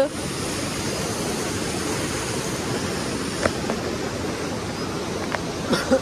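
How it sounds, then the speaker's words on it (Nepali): Indrani Falls, a waterfall, gives a steady broadband rush throughout, with a few brief clicks and knocks rising over the constant roar. "यो चाहिँ फल्स हो गाइस है"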